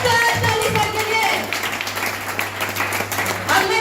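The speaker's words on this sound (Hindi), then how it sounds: "मैं चाहती हूँ तहे दिल से सर के लिए बिग जोरदार ताली सर के लिए।" An audience at a motivational life-story program claps together in a sustained, dense round of applause that stays loud and steady for about four seconds.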